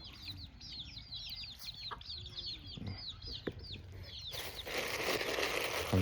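Decoy fighting chickens at a village rooster yard cluck in repeated short bursts, with a chorus of chirpy calls through the first half before a rising broadband rush of noise takes over near the end.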